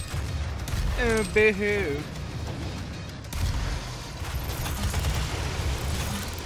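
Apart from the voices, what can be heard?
rocket launcher firing in Doom video game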